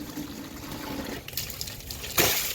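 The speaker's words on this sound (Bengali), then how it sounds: "বালতি ভর।" Water runs from a tap into a bucket as a steady, moderately close trickle and splash. A brief louder gush comes near the end, and no one speaks.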